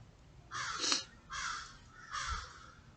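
Crows cawing outdoors in the morning, three separate harsh caws spaced evenly apart, moderately near and clear against a quiet background.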